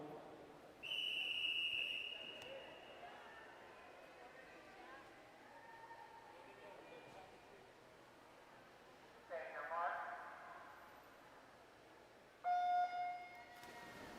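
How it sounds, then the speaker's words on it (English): A sharp official's whistle at a girls' swimming regional prelim meet sounds near the start, a loud sustained tone with harmonics, followed by crowd murmur and talk, with further whistle or horn blasts later. "there's our first whistle."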